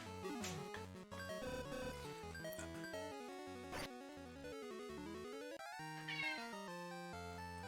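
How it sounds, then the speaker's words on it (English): A cat meows and caterwauls repeatedly in drawn-out, wavering cries over a steady background of chiptune-style game music. "the cat's craving it"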